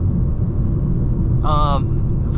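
Steady low road rumble and wind inside a BMW 328i E90 cabin at highway speed with the windows up, a broad even drone throughout and a brief higher tonal blip partway through.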